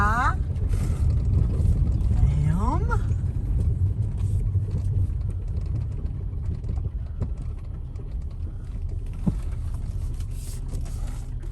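A vehicle rolls down a dirt road at dusk in the woods, with a steady low engine and tyre rumble throughout. A voice talks over the drive now and then.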